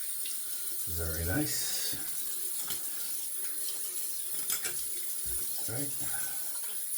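Tap water running into a sink for a quick rinse during a wet shave, a steady faint splash with a few clinks and handling noises, under brief speech.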